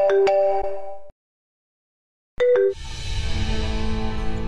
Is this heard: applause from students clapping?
no